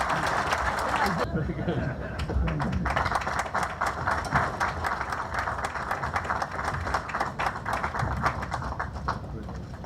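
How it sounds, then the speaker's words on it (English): Audience applause rises at the Queen's Award presentation to Sun Mark, a sustained patter of clapping of moderate loudness, with a brief spoken voice near the start. "let's have a round of applause"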